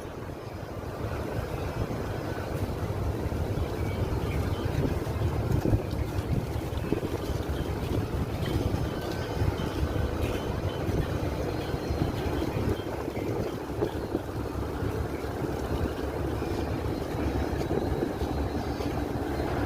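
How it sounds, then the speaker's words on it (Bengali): Passenger launch boat passing on a river before rain, with a steady, continuous rumble of broadband engine and water noise and some wind buffeting, no voices. "আর পাশে একটি লঞ্চ যাচ্ছে"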